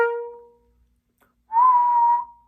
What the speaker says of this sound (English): What better way to do that naturally than to whistle?